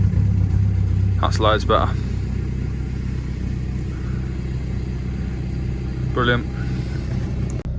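A Passat B5.5 with a newly installed battery runs at a steady, loud engine rumble throughout, close by, while someone briefly speaks over it.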